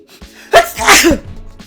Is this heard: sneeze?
yes